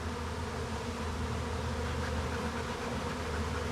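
Honey bees buzz in a dense, steady swarm near a hive, a continuous close drone with no breaks.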